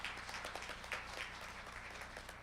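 Quiet applause from a Korean research-results audience welcoming a panelist, a faint, distant patter of scattered clapping over a low background hum.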